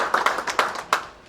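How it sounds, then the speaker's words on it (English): At the P.A. Awards 2019 ceremony, a brief round of clapping greets Sarah, with a handful of distinct, fairly close hand claps that thin out quickly into silence. "big hand of applause for Sarah."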